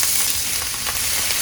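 Sliced zucchini sizzles steadily in a little oil in a frying pan, a dense, loud, continuous crackle heard close up with no talking.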